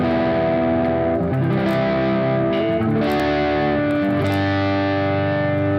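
Electric guitar played through an amp modeler with moderate distortion, the gain set between 2 and 3, sustained driven chords ringing continuously at a steady loud level with no talk.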